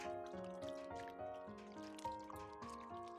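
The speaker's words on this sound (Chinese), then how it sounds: "再用凉白开给它清洗一遍，把里面的盐分给它清洗掉" Radish skins being rinsed with cold boiled water to wash out salt, heard as soft close trickling and dripping with small splashes, quiet and steady, no talk.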